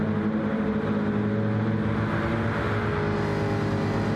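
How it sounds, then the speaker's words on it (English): V8 race cars roar side by side in a drag race down the Daytona Road Course straight in a racing game, their engines a dense, continuous, close drone with no voices over it. "Chris has found himself ahead, although Harry Ryan is right next to him as they drag race towards the end of lap 9"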